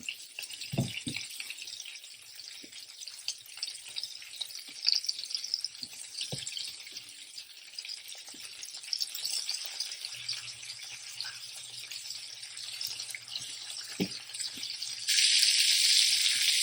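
Onions fry on a pan beside burgers for a summer barbecue meal cooked indoors, giving a steady close hiss of sizzling with occasional soft knocks, the sizzle surging louder near the end.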